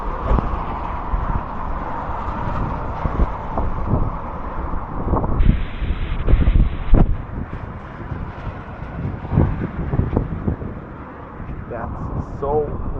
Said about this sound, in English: That's so windy.